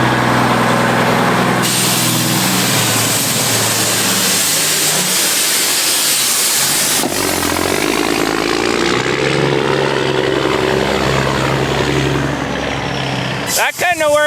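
A truck works at a driveway construction site, its engine roaring loud and close with a hissing, rushing wash that shifts in pitch, and a sharp burst near the end; people talk over it.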